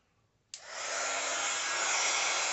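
A heat gun switches on abruptly and blows a loud, steady rushing stream of hot air onto a mixed media tag, rising briefly then holding constant; no talking.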